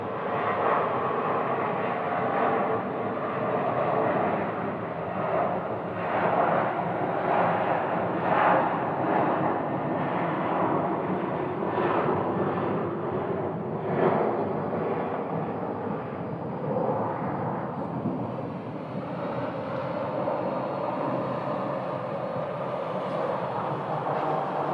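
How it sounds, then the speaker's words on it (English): A Southwest Airlines jet takes off at Sky Harbor, producing a loud, sustained broadband roar with a steady, rumbling texture that holds for the whole stretch, and no speech is heard over it. "And that plane is Southwest that just took off"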